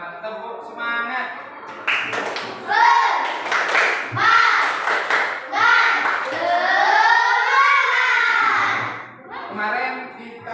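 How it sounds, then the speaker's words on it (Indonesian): A school class performs a spirit clap, chanting together in rhythmic bursts with claps and taps mixed under the loud group voices. "mari kita bersama-sama tepuk semangat"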